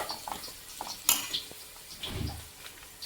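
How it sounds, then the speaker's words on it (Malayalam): Spoon stirring salt into prawn biryani in a pot, with soft scraping and a few sharp metallic clinks against the pot, close and fairly quiet, with no talk. "ഇനി ഉപ്പ് ഇട്ടത് നന്നായിട്ട് ഇളക്കി യോജിപ്പിച്ചെടുക്കാം."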